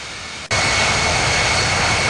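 An Air Asia Airbus A320 jet taking off at Sydney International Airport, its engine roar bursting in abruptly after a brief quieter moment and then holding loud and steady, with a thin high whine above the broadband rush.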